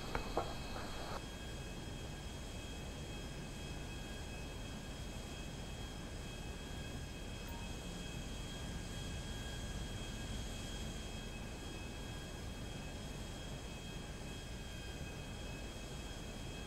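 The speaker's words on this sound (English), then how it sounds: "getting ready for takeoff, and one jet seems to be acting up." Jet engines run up for takeoff in the video game GTA, one engine faulty, producing a continuous, faint, even turbine roar with a thin high whine, and a brief clatter at the start.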